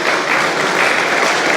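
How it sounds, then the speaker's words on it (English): Audience at a business retention and expansion event at a World Trade Center applauding the sponsors, a brief, steady burst of dense clapping from a crowd in a room, loud and even. "So big round of applause for the sponsors"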